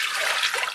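One cup of water pours into a blender, a short, bright, steady splashing rush with no voices.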